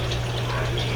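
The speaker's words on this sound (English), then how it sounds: "So now we got clean RO water coming in" Clean RO water running from a hose hung over the edge of an aquarium during a water change, a steady close, even rush of flowing liquid with a low hum underneath, lasting about a second.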